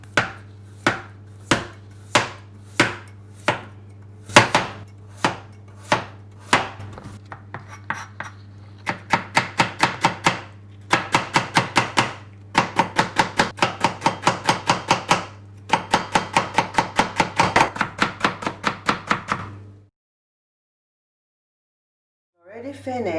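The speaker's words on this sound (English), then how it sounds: "Now I'm going to do the second shred is the cucumber shred" A knife chopping cucumber into fine shreds on a cutting board, first slow single strokes then fast rapid runs of sharp rhythmic chops, close and crisp, with a low steady hum underneath before it stops.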